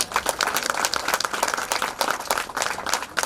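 An audience at a church opening ceremony claps in welcome for a priest, steady moderately loud applause from a crowd throughout.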